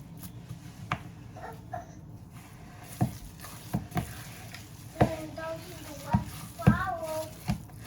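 Carrot cake muffin batter being stirred with flour in a bowl, giving soft repeated scraping and tapping strokes at close range, under occasional speech and a voice.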